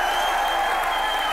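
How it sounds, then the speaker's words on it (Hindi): A studio audience on an Indian TV comedy show applauds, a steady, dense wash of clapping that fills the whole brief moment without letting up. "आपकी जोरदार तालियों के बीच my favourite mister Anil Kapoor"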